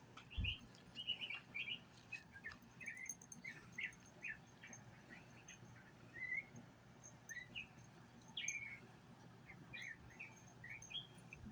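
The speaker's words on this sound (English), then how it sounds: "Birds are singing their songs." Birds chirp and sing in a quiet yard, a scatter of short, bright calls repeating irregularly over faint background hum, fairly distant and soft with no voices.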